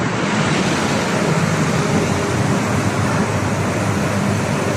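Steady road traffic rumbles nearby as a vehicle passes cyclists on a road, with broadband noise that stays loud and constant throughout.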